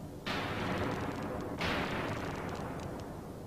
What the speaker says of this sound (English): If we put it through this box, you'll see that it's got a sort of fireworks sound with it.